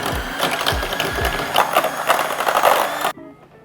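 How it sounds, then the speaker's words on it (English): A hand mixer whirs steadily while whipping pumpkin cream cold foam, a close, continuous buzzing motor hum that runs for about three seconds and then cuts off abruptly. "For the foam, I'm going to use a hand mixer to mix this all together."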